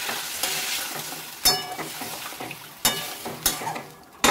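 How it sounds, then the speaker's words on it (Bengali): Water poured into a pan of well-fried spice paste for a light fish curry with small carp, hissing and sizzling under repeated scrapes and clinks of a stirring spoon against the metal pan. "এবার জল দিয়ে দেবো।"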